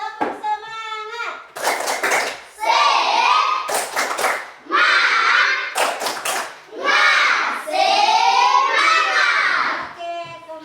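Schoolchildren repeat a rhythmic cheer clap in class: crisp clusters of hand claps trade off with enthusiastic group chanting, near and loud throughout.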